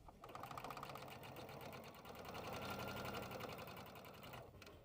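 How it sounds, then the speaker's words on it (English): A sewing machine runs in one steady, fast, close stitching stretch while sewing down the long sides of a fabric tab, slowing briefly near the end. "we're going to step to our machine and sew down both long sides"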